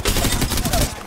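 A short, dense burst of rapid video game gunfire, loud and continuous with overlapping shots filling about a second, close and harsh with a faint voice underneath.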